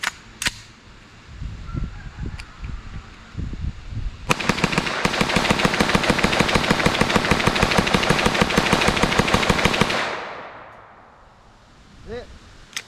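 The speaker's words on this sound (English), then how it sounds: "I got a mag loaded up, 35 rounds. Just gonna mag dump it." A Palmetto State Armory AR-V 9mm rifle empties a 35-round magazine in one long, loud, rapid string of shots lasting several seconds, with a couple of single shots before it and a fading echo after.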